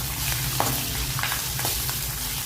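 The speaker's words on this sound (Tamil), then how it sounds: "பச்சை மிளகாய் 2ங்க பொரிக்கும். இது கூடவே லைட்டாக பெருங்காயத்துடுங்க போட்டு நல்லா ஃப்ரை பண்ணிக்கலாம்." Constant loud sizzling of green chillies and asafoetida frying in hot oil, close by, with a few small pops and crackles throughout.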